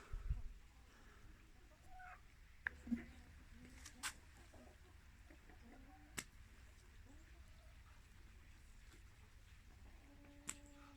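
Soft, scattered clucking from a few chickens, including a young silver hen, at a moderate distance during feeding, with occasional louder clicks and knocks over a quiet outdoor background.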